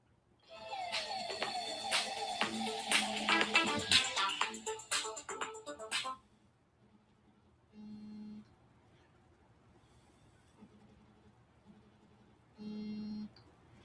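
A phone ringtone plays loudly as a bright, layered electronic melody for several seconds, then drops away to quieter short buzzing tones in the background.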